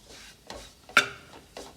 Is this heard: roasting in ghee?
yes